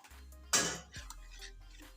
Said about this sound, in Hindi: और चम्मच चलाते जाना है।